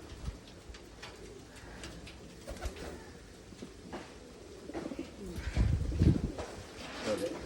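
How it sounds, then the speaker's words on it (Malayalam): A racing pigeon coos softly in short repeated bursts while held before release at a loft, with handling rustles and faint background sounds. "ഇതാണ് നമ്മൾ വിടാൻ പോകുന്ന ഫസ്റ്റ് പ്രാവ്"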